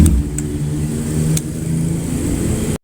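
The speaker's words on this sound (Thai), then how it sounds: "เดี๋ยวขออนุญาตเปิดเครื่องนะครับ" A 2017 Honda CB650F motorcycle engine idles close by with a steady, low rumbling tone, then cuts off abruptly at the very end.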